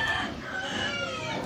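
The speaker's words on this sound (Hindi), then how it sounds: "मेरा शामू ब्रीडर मुर्गा" A Shamo breeder rooster about a year and a half old crows in one sustained, fairly faint call under steady background noise.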